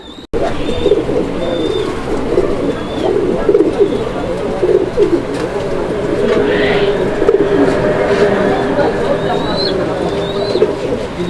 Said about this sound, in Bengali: এটা ডাউকা কবুতর একটা নর ডাকটা আপনারা দেখছেন